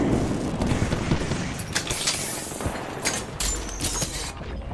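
Rapid bursts of video game gunfire from an Old School RuneScape session crackle continuously, dense and loud, with sharp repeated shots layered over a steady wash of noise.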